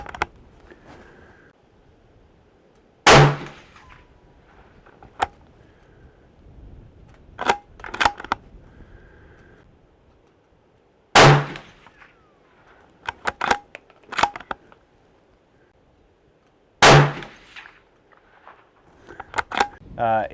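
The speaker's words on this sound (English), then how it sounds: "this is going to be our initial 5-shot group with the MagTech at 100 yards." CZ 527 American rifle in 300 Blackout firing MagTech supersonic rounds at a 100-yard range, three sharp, loud shots spaced several seconds apart, with quieter clicks and handling noises between them.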